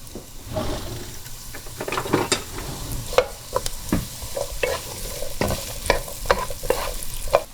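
Onion sautéing in a pan for a Persian spinach and prune stew, with a steady close sizzle broken by repeated scraping stirs and utensil clicks, no talking.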